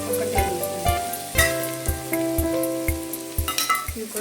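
Ginger garlic paste frying with browned onions for a paneer biryani gives a steady low sizzle with scraping stirs. It sits under background music with a regular thumping beat.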